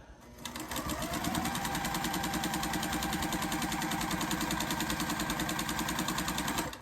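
Sewing machine stitching quilt fabric, a rapid even needle chatter that starts up after a short pause and runs steadily up close, with no talking.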